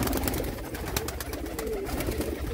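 Pigeons cooing at a pigeon sale in Jammu, a steady low murmur of coos from several birds over a dense background din of the gathering, with no clear speech.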